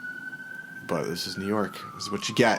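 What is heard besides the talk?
emergency vehicle sirens on a New York street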